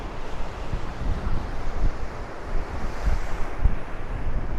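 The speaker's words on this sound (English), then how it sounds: "I don't know whether you can hear that breeze." Steady, rushing wind blows across a microphone fitted with a muffler at Playa San Juan beach. The gusting noise is broad and continuous with low buffeting, and the sea can be sensed underneath.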